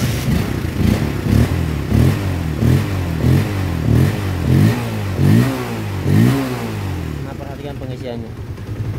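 A Honda CB150R motorcycle with a weak charging system starts and runs close by, its engine revved in a series of about eight rhythmic throttle blips before it settles to a rough idle, with a voice partly audible over it.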